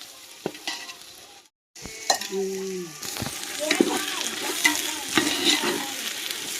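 Spices and mint frying in a pan for pulao, a steady sizzle with stirring scrapes and clatters, briefly cut to silence before resuming louder.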